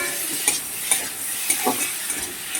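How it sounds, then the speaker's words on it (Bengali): Spices are stir-fried in a pan for a shimul fish curry, a soft continuous sizzle broken by several sharp scrapes and clinks of a spoon against the pan at an uneven rhythm, close and fairly quiet. "ভালোভাবে কষাতে হবে"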